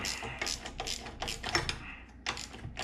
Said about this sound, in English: we'll take these bolts out